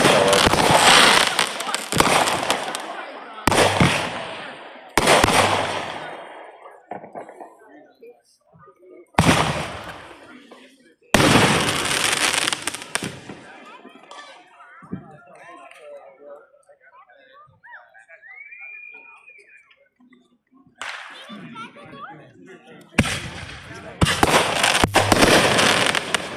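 Fireworks explode in repeated loud bursts and crackling volleys, with quieter gaps between them and people talking nearby.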